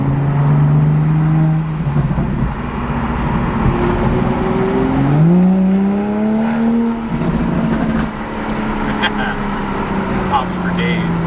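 A Toyota Supra fitted with a new downpipe drones through traffic, its engine and exhaust note rising and falling through gear changes with faint crackles, loud and close, while a person talks over it.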